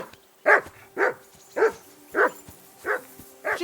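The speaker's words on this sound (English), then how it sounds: "that barking's driving me nuts" A dog in Kingdom Come Deliverance II barks six times at a steady pace, each bark loud and close, with only quiet game ambience between them.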